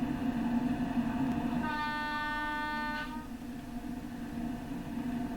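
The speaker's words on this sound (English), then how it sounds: "Nice loud horn." An LNER Azuma Class 801 train sounds a single sustained horn blast of about a second and a half in Train Sim World 4, loud over the steady hum of the moving train.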